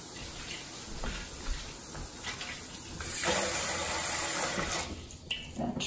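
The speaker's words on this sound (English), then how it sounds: "now I put in a cold water bath" Water gushes and splashes as a hot pot of freshly boiled milk is set into a cold water bath, starting as a low trickle and swelling into a louder rushing fill partway through.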